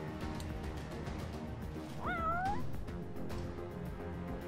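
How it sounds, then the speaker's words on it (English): A house cat meows once, a clear rising call in the middle, heard over steady background music and game sounds. "You want some food, kitty?"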